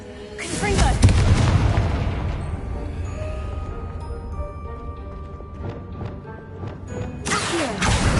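A Confringo spell blast in Hogwarts Legacy, a loud booming burst at the start followed by a rumbling, crackling tail, with another heavy impact near the end amid game ambience.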